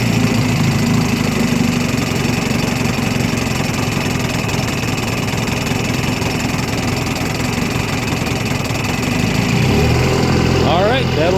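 A 1954 Johnson RDE-16 25hp outboard motor idles with a steady, loud, lumpy putter throughout. Near the end a higher whine and some rattles come in over it.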